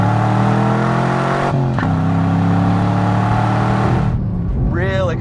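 A 2010-2015 Chevrolet Camaro SS ZL1 with a Borla ATAK performance exhaust holds a loud, steady droning exhaust note through the gears, with a brief dip at a shift and a rising rev near the end.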